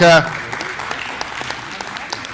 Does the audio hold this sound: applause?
yes